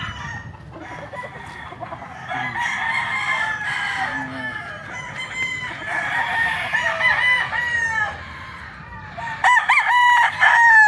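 Black Gray gamefowl roosters, a sweater cross, crowing on a farm; several overlapping crows from more than one bird, loud and near, with clucking and a final sharp crow at the end.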